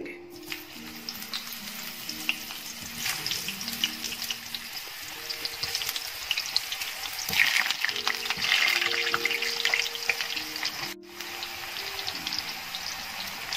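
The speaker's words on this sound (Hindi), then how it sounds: "जब तक हमारा गोश्त भूनता है तब तक हम ऑयल डालकर शलजम फ्राई कर लेंगे" Turnips frying in oil in a pan, a steady close sizzle and crackle that swells briefly as they are stirred, with no talking.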